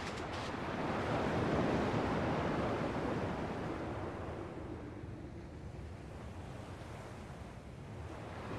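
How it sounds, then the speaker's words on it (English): Ocean surf in the video game Kingdom Hearts II: a steady, broad wash of breaking waves with a wind-like hiss, continuous and fairly loud, swelling slightly early on and then settling, with no speech over it. "At least the waves sound the same."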